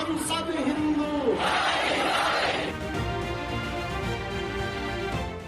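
A huge crowd of thousands at a Hindu religious gathering shouts in unison, a loud, dense, roaring chant that rises at first and then settles into a sustained wash of many voices, with amplified voices over it.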